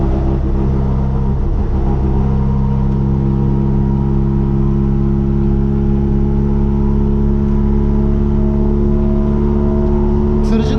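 A heavy bus engine rumbles loudly and continuously from inside an Otokar M2000 Sport Magirus bus, a low steady drone with exhaust noise and faint voices underneath.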